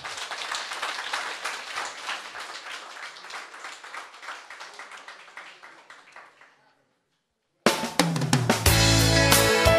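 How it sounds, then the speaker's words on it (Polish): A live audience at a song contest qualifying round claps for a singer, dense steady applause that slowly fades to silence before music starts up. "I może jeszcze brawa na zachętę dla Marka"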